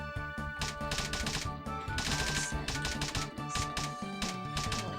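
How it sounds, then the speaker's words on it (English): Rapid, loud keystrokes clatter in dense bursts on a keyboard during a Japanese typing game, layered over steady background game music with no talking. "It sounds like a typewriter."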